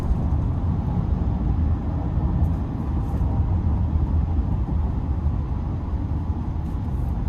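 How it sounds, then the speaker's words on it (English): Steady broadband rumble of tire road noise inside the cabin of a 2025 GMC Sierra 2500HD SLT X31 Duramax pickup with off-road tires, a continuous low roar heard from the driver's seat with no one talking. "I hear the tires, but it's not like overly intrusive, even though this has the X31 off-road package"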